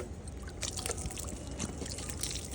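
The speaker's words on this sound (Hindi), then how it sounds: "इस तरह से हमें पानी डालना है ताकि बीज इकट्ठा ना हो, हल्का।" Water poured lightly over freshly sown mustard seeds in a soil-filled grow bag, a steady soft splashing trickle running throughout without talk.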